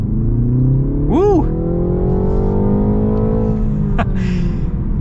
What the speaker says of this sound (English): gotta love that acceleration